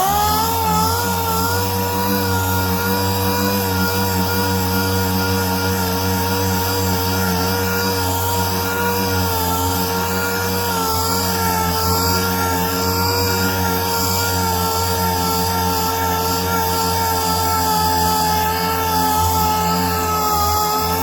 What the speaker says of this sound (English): So you got to keep on sanding until you get it nice and smooth